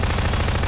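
A nuclear bomb blast under a car in Garry's Mod sandbox, a dense, loud, continuous roar of rumbling explosion filling the whole moment without pause.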